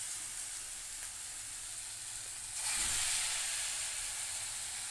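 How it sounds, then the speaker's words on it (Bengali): Small chana dal fritters sizzle steadily in hot oil with a bright broadband hiss; the frying swells louder about halfway through as more batter goes into the pan, with no talking. "তো আমি এখন বড়াগুলো ভেজে নেব"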